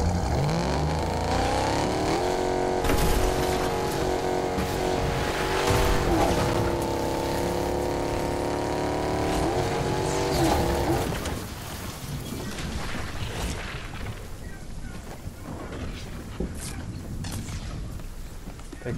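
In-game car in the Fortnite battle royale, a steady loud engine drone with shifting pitch through the first half, then rougher clattering movement and bumps as the ride continues, no talking.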